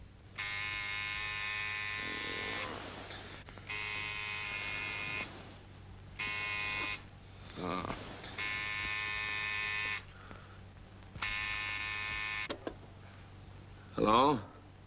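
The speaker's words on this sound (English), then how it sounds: "Just reach over and very firmly press the buzzer." A loud, flat electric buzzer sounds in repeated long presses of about two seconds each with short gaps, close by, while a voice murmurs briefly between the bursts.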